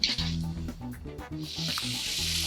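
Frozen party appetizers frying in hot oil until golden and crispy, a soft continuous sizzle and hiss with light stirring clatter, fairly quiet and close.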